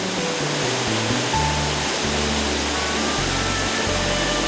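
A forest waterfall at a national forest recreation area pours in a dense, steady rush of water, loud and unbroken, with a low hum running beneath it.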